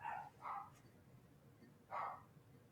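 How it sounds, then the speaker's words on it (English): A small dog barks three sharp yaps in the distance, two close together then one after a pause, faint over a quiet background. "that sounds like a little dog."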